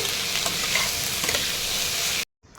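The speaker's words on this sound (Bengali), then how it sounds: "দিয়ে আবার ভালো করে আমি এটা ভেজে নিচ্ছি" Capsicum and spring onion frying in a pan at home, a steady close, loud sizzle with stirring scrapes that cuts out abruptly near the end, then a faint return.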